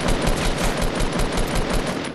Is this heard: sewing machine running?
no